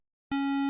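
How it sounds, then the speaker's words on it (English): A square-wave tone from a 3xOsc synthesizer oscillator starts abruptly after a short silence and holds steady, loud and buzzy, with no other sound. "a square wave"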